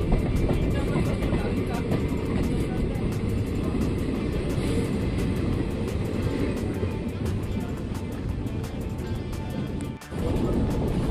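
A local MEMU train rolls into Bangalore Majestic station, a steady loud rumble of wheels and carriage noise heard from on board, with rhythmic rail clicks throughout.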